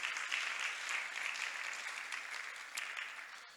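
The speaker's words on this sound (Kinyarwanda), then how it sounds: "Imana yacu amashyi menshi cyane." A church congregation claps together in a steady, even wash of applause that carries on throughout and eases slightly toward the end.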